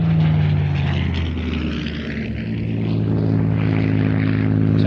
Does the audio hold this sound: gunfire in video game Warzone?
no